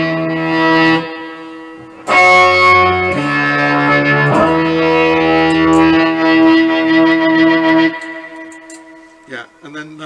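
Sustained seven-string electric guitar chords ring out with a long washy reverb tail, shifting between a few held chords before fading into scattered notes.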